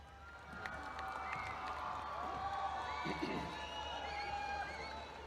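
Crowd cheering and applause greeting Prime Minister Imran Khan as he arrives at a launching ceremony for a national health programme, a steady wash of distant cheers and scattered whoops held at an even level throughout.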